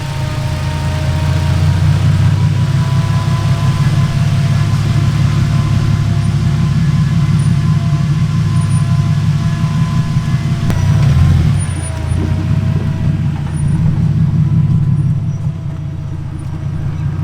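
Turbocharged BMW E36 driving, with a steady, loud engine drone and road rumble throughout, a brief dip partway through, then continuing at an even level.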